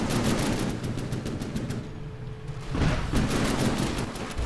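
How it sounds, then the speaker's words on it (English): Auto cannons fire in From The Depths, a dense, rapid, rattling barrage of shots that continues steadily, briefly thins out, then resumes at full strength. "the auto cannons are firing, and we get normal cannons as well"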